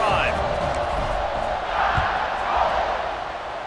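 A stadium crowd roars steadily at kickoff in the EA Sports College Football 26 video game, a broad wash of cheering with swells under play-by-play commentary.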